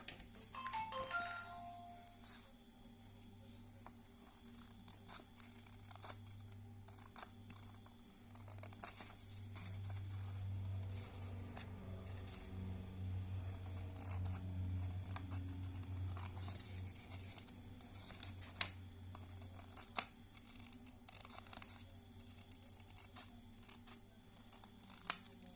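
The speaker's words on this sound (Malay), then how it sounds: "Lepas tu cikgu gunting bentuk ni." Scissors snip through a paper shape in a classroom, many small crisp cuts repeating irregularly over a long stretch, with faint paper rustling and a low steady hum underneath, close and quiet.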